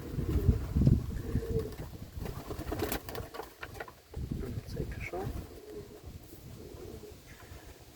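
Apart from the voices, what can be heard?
pigeons cooing in a dovecote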